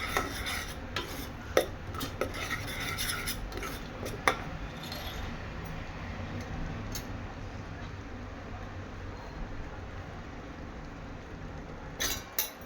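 Chana usal masala being sautéed and stirred in a pan, a spoon scraping and clinking against the metal in an irregular rhythm over a steady low sizzle, the clatter easing off partway through.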